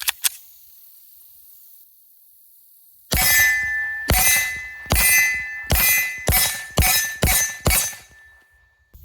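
A Canik TTI Combat pistol fitted with a reduced power recoil spring fires a rapid string of about eight loud, sharp shots at an outdoor range, each crack followed by a brief ringing tail.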